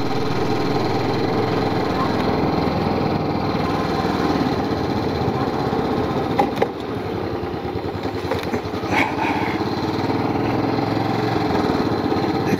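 A motorbike engine drones steadily on a road approaching Jorethang in West Sikkim, close and continuous with a couple of brief bumps and rattles partway through.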